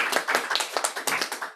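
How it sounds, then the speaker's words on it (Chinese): Members at an association's first preparatory meeting clap together in approval, giving a brief burst of brisk, fairly close applause with many overlapping claps. "好，那我们就可以拍手通过。"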